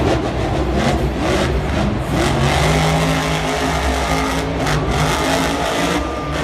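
A monster truck engine at a Monster Jam freestyle run in Glendale roars and revs hard as the truck is floored over a jump, a loud, continuous, gritty drone with rising pitch sweeps, heard from the stands.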